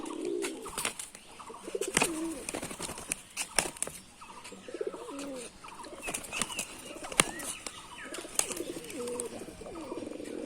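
Pigeons coo repeatedly in soft, throaty rolling calls, with occasional wing flaps and scuffling nearby; no talking.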